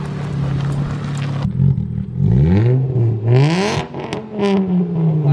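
A Chrysler PT Cruiser GT with a new 4-inch exhaust tip revs hard in a parking lot, throttle blips rising and falling in several loud, close bursts after a steady idle.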